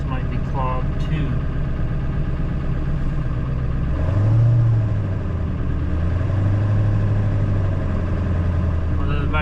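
A big rig truck's engine runs after a hard start, its low, heavy rumble steady and close, swelling briefly partway through as if revved, with no talk over it.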